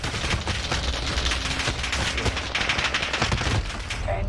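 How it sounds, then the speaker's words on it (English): Dense, continuous automatic gunfire in a shooter video game, rapid overlapping shots coming from behind the player, loud and sustained with no pauses. "Oh, I'm getting shot from behind."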